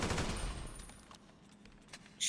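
Rapid automatic gunfire in the video game GTA V, a short loud burst at the start that quickly trails off into quieter game ambience, with a sharp click at the end.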